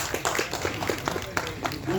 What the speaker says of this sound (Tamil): ஸோ படத்தோட டீமுக்கு ஃபர்ஸ்ட் ஒரு பெரிய கைத்தட்டலை கொடுத்துடலாம்